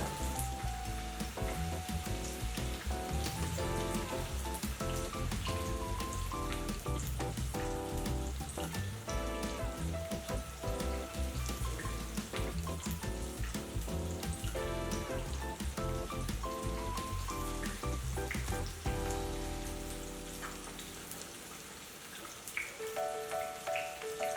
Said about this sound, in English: we're going to wait for the fritters to deep fry until golden brown